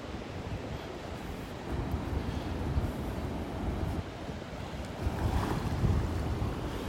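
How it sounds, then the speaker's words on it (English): Wind gusts across an open beach in North Naples, Florida, rumbling and buffeting the microphone over the wash of surf, steady with stronger gusts toward the end. "It's pretty windy, but it's nice out here."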